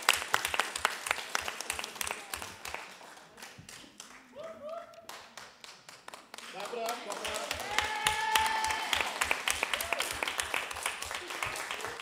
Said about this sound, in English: Now, come on, put your hands together for that.